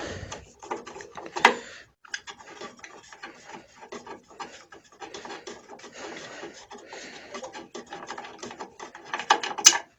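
Socket and extension unscrewing the radiator screws on a Renault Mégane, quiet close-up clicking, scraping and gritty turning sounds in short irregular bursts, with a couple of sharper knocks.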